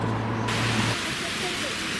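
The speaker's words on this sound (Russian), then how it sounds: "я даже не думала, что такой ливень будет" Heavy downpour pouring over Victory Square in Kyrgyzstan, a dense, loud and steady hiss of rain that fills the whole stretch without a break.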